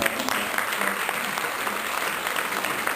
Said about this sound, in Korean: 이렇게 한번 박수를 좀 쳐드려야 되지 않을까